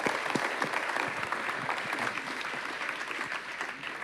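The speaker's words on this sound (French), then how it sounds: "on va applaudir nos invités pour la qualité de leurs interventions." An audience claps for the guest speakers after a panel on European strategic autonomy in AI and cybersecurity, steady dense applause filling the hall at close range with no talk over it.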